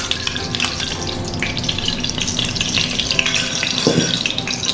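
Whole spices such as cinnamon and cardamom frying in oil and ghee for homemade Kannur mutton biryani, a steady close, dense sizzle with light clinks and scraping throughout.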